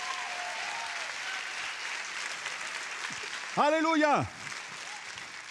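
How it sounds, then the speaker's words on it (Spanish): A church congregation applauds steadily through a sermon, a continuous wash of clapping beneath a preacher's amplified voice, which rises into a loud shout near the end as the applause carries on. "Dale mejor aplauso al Rey de Reyes y Señor de Señores."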